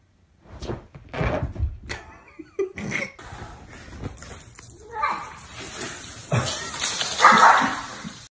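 A dog gives a few short barks and yips among children's voices and chatter in a busy room, the barks sharp and close but mixed with talk and laughter.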